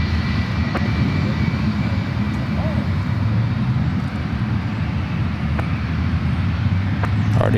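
Jet airliners, including a Boeing 777 and an Emirates jet, taxi out toward runways 28 at San Francisco airport, a steady broad engine rumble and whine that holds throughout, with a voice talking over it.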